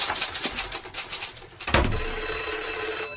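A telephone bell rings in a British office setting, a few bursts of trilling bell close by, followed by a sustained steady ringing tone that continues to the end.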